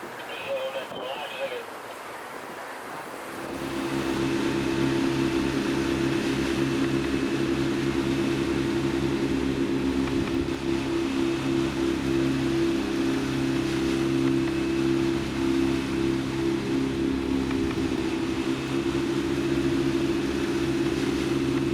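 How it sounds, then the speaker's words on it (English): Powerful speedboat engines, four 250 horsepower outboards per boat, drone steadily as the craft crosses open sea toward Komodo Island, loud and continuous after a quieter start, with wind and water rush blended in. "We left early in the morning for the 70-minute crossing to Komodo Island in speedy motorboats equipped with 4 250 horsepower engines each"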